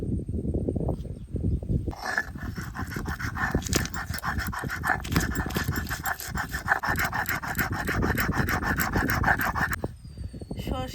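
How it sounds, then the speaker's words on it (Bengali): Mustard seeds, green chillies and salt being ground by hand on a stone, heard as a close, steady rasping scrape with rhythmic back-and-forth strokes lasting most of the clip. "এবার কটা কাঁচা লঙ্কা আর সামান্য নুন দিয়ে ভালো করে বেটে নেবো"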